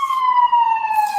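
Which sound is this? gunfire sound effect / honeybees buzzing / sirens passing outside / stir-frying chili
sirens passing outside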